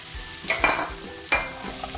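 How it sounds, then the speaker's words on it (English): Onions and potatoes frying in a pan while being stirred, with close sizzling and a couple of sharp scraping stirs against the pan. "Fry my onions. Put back my potatoes."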